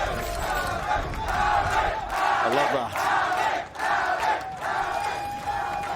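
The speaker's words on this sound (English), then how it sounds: "The crowd getting behind one of our youngest players here as well." A large esports crowd at a Valorant match roars and cheers continuously, with swells of voices and chanting filling the space.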